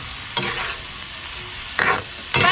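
Shrimp tails stir-fried in a hot pan with cooking wine: three loud bursts of tossing and scraping over a low, steady sizzle, close by.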